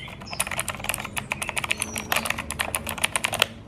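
Rapid, crisp clacking of a Digital Alliance K1 mechanical keyboard being typed on, close and loud, with a steady run of keystrokes and no talk.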